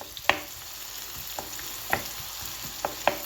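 Grated carrot and onion sizzle in a pan for stewed potatoes with pumpkin, a steady close frying hiss punctuated by a few sharp stirring scrapes and clinks.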